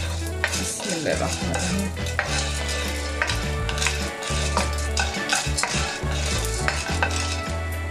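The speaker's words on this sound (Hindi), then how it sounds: "ये देखिए इसको हल्की आंच पे हमने इसको भूनना है" Flaxseed mixture roasting over low heat for alsi ki pinni, dense crackling sizzle with constant scraping and clinking of a spoon against the pan, loud and close, while someone speaks briefly.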